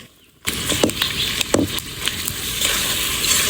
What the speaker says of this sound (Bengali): তারপর সেদ্ধ করা ছোলা বুট আর আলু দিয়ে ভালো করে মিশিয়ে নিলেন।